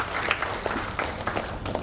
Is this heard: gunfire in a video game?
no